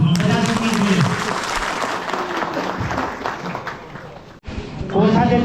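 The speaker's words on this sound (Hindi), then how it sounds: "सब तालियां बजा दीजिए।" Applause rises at a village council swearing-in ceremony as a motion passes by voice vote, a crowd clapping under an amplified voice that keeps talking, briefly dropping out before the speech resumes.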